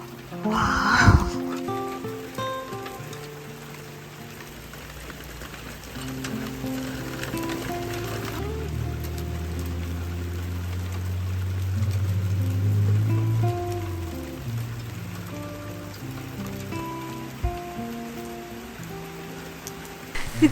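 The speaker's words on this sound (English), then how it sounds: "I heard this sound. Wow! It's hailing." Steady patter of large hailstones drumming on a surface, a continuous rattling wash with a few sharper knocks, no voices.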